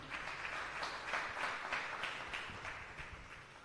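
An audience at a gospel music event gives a soft, continuous round of applause, heard from a distance and fairly faint, with pulses of clapping rising and falling.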